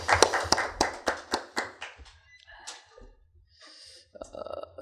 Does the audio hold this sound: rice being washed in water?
no